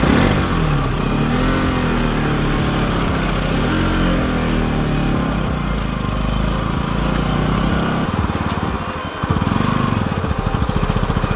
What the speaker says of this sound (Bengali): The engine has become so hot that I can hear the radiator fan going on.